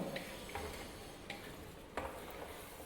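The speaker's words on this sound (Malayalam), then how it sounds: "ഇതിലേക്ക് 1/4 കപ്പ് വെള്ളം കൂടി ചേർത്ത് കൊടുക്കാം. അതിനുശേഷം നന്നായി ഒന്ന് ഇളക്കി യോജിപ്പിച്ച്" Beef curry being stirred in a pressure cooker pot after a splash of water, Kerala wedding style, with soft sizzling and a few light scraping clicks of the spoon at intervals, faint and close.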